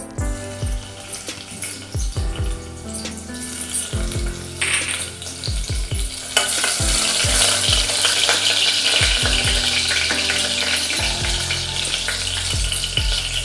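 Garlic and green chillies hitting hot oil in a pan for spicy mutton, a loud sizzle that swells and stays dense, with repeated low knocks of the spoon against the pan.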